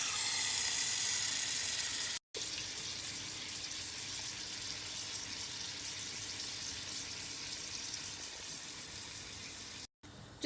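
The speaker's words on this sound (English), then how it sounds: "So we're going to cook our chicken that we marinated" Marinated chicken pieces for a traditional biryani sizzle loudly in a hot pan, a dense continuous frying hiss with two brief cuts to silence.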